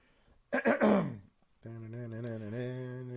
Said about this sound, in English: Let me clear my throat real quick.